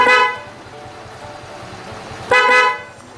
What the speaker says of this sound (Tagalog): Try natin yung ating bago install na MOCC dual horn with relay po yan.